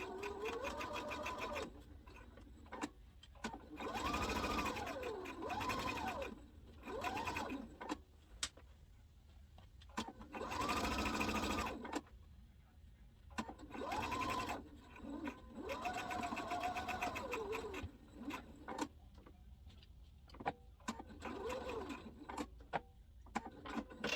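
A sewing machine stitches fabric for a memory bear, its motor whirring in repeated loud bursts of rapid stitching separated by short pauses, close and steady.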